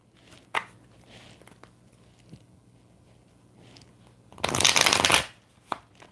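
Tarot cards shuffled on a bed, heard as a loud riffling burst lasting under a second, with fainter scattered card handling and soft taps before and after in a quiet room.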